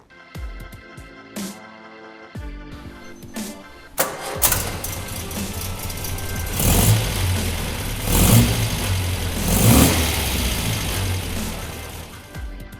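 An MG Magnette race car prepared for European racing cranks and fires, then revs in loud, rough bursts with strong low rumble, settling between surges of throttle, close by with no talk.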